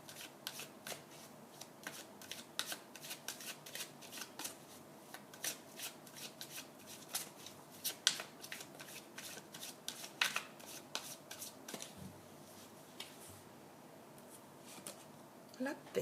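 Tarot cards are handled and shuffled up close for a daily reading, with repeated quick riffling and slapping card sounds running throughout at a soft, even level. A voice is heard talking alongside.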